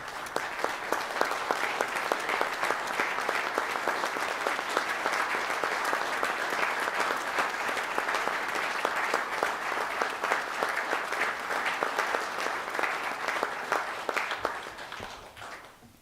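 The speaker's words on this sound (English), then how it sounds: "We'd like to give you a round of applause too." Sustained applause at a city council meeting for police officers and their families, many hands clapping steadily and evenly for some fifteen seconds before tapering off at the end.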